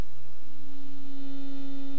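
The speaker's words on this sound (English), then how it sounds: "this is our 200 cycle per second sine wave" A steady, low-pitched 200 Hz pure sine-wave tone hums continuously at an even level throughout, with no other sounds.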